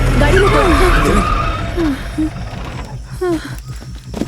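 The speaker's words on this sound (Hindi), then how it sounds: "गाड़ी रोको" A car skidding to a stop with squealing tires in a Hindi film scene, several short screeches over engine rumble and background music, with voices nearby.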